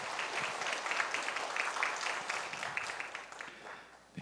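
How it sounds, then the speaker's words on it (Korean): Warm congregational applause fills a church service at a New Year's deacon appointment, steady and dense clapping from many hands that holds for several seconds and then thins toward the end. "큰 박수로 격려해 주시기 바랍니다"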